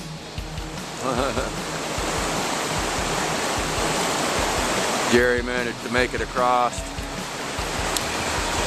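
River water swirls loudly in a whirlpool at an inside bend, a constant rushing roar that runs throughout, with someone speaking briefly over it.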